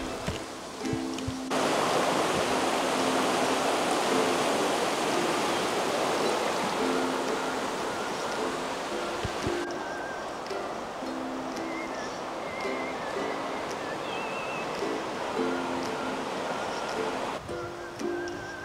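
A river rushes past a campsite in Bled, Slovenia, as a loud, steady broadband wash of flowing water that fills the whole stretch, with faint tonal sounds drifting over it and no voices.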